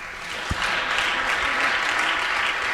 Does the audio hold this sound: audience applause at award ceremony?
yes